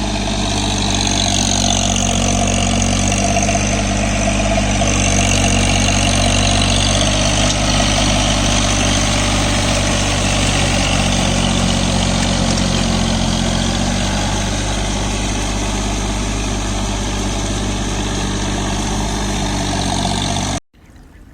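A John Deere 3028 EN 28 HP mini tractor idles close by with a loud, steady, even engine drone for about twenty seconds before it cuts off abruptly at the end. No one speaks.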